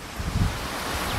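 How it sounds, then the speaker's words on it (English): Steady wind blows outdoors at an arts-and-crafts workshop on a cold early morning before expected rain, giving a loud, continuous rushing roar with low buffeting rumble and no speech. "A little windy right now because they're expecting some rain coming in."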